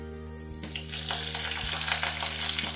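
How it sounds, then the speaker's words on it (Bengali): Panch phoron spices and slit green chillies hit a small amount of hot oil and start sizzling, a steady close hiss that rises sharply after a brief quieter start and holds over a low hum. "তেলটা গরম হয়ে গেছে, এবার আমি এতে দিয়ে দিচ্ছি 5 ফোড়ন আর চেরা কাঁচা লঙ্কাটা।"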